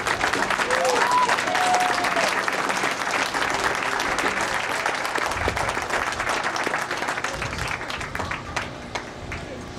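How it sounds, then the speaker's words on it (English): A large gathering at an Indian name-giving ceremony claps for the grandmothers of a childcare centre, sustained applause that is loud at first and gradually thins, with brief voices and whoops mixed into the crowd. "please to give a good round of applause to the grandmothers of the Splatsin Childcare Center"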